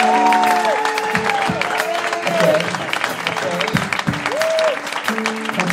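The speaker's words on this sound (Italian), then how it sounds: "facciamo un applauso a questa band" Audience applause for a band at a live show in Cantù, Italy, steady clapping and crowd noise with tonal sliding sounds and a voice over it throughout.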